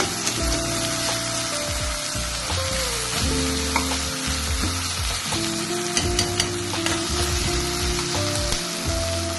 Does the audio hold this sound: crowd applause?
no